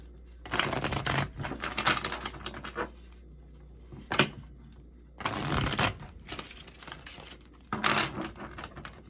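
Tarot cards shuffled in quick riffling bursts, several rustling clusters with brief pauses between them, close and fairly loud, with no voice over them.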